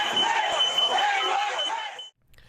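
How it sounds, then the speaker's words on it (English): A door security alarm beeps steadily in the background while a mob shouts over it as a loud, dense roar, then both cut off abruptly near the end, leaving near silence. "You can hear the security alarm from the door in the background"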